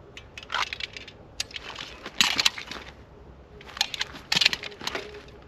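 A handgun magazine change during a dry-fire drill, with clustered metallic clicks, clacks and rattles of the magazine and slide handled up close in two bursts, with no gunshots or speech.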